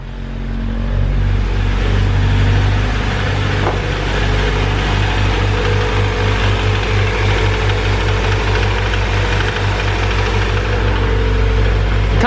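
A Honda B16 engine, freshly swapped into a manual car, runs at a steady loud idle with a dense, even low rumble and a slight knocking pulse, close by and alone without talk.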